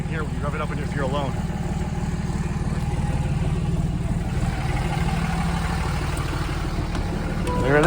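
A lifted Banks-tuned 5.9 Cummins diesel truck idles with a low, steady rumble close by while someone talks over it, and the engine swells slightly louder at the very end.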